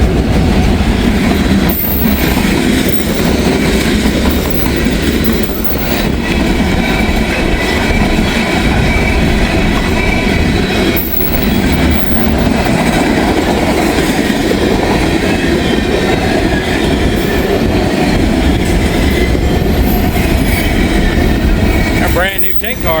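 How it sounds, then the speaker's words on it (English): A long freight train that includes a new tank car passes close by on the tracks, a loud, continuous rumble of wheels and clattering cars lasting the whole stretch. "I'm hoping this is a little bit of a longer train."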